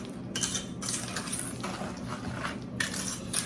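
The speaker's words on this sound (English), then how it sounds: "Let's stir that sugar up in there" A spoon stirs sugar into a sweet potato mixture in a bowl, giving close, continuous scraping and clinking scrapes against the dish with brief pauses between strokes.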